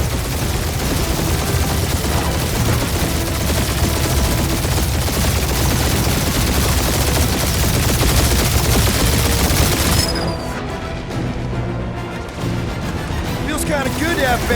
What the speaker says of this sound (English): Just make sure you're shooting while you do it